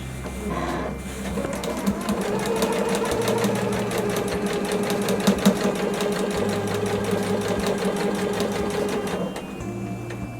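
A sewing machine stitches fabric binding along a drawn line in a fast, steady mechanical whir that runs for several seconds, loud and close, with brief pauses at start and end.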